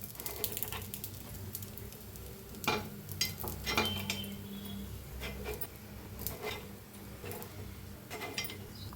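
Appe batter frying in oil in a cast appe pan for a fasting-day meal, a soft steady sizzle with scattered metallic scrapes and clicks of a utensil turning the pieces, close and fairly quiet, no talk.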